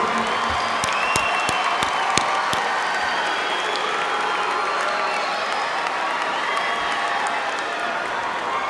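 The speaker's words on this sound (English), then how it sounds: "So let's give your parents a nice round of applause for all they have done for you." A large high school graduation crowd applauds parents, with dense sustained clapping, whoops and cheers rising over it, a few sharp nearby claps at the start, loud and continuous throughout.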